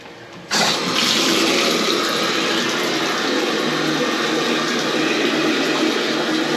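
A toilet flushing with a drain snake still lodged in the bowl, a sudden loud rush of water starting after half a second and churning steadily to the end.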